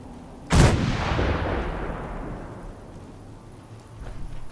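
Enemy gunfire in Fallout 4 lands as one sharp, loud blast followed by a long decaying rumble, with faint distant pops near the end.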